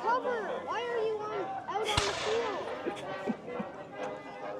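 A single sharp musket shot cracks out mid-clip at a War of 1812 battle reenactment, with a short echoing tail, while a voice talks throughout before and after the shot.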